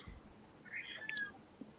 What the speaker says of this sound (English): Sorry, that is my cat.